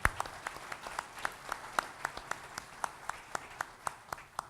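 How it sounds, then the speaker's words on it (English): A small audience at a college convocation gives a thin, steady round of applause, with separate claps sounding at a regular pace and fairly quiet overall. "round of applause is due there"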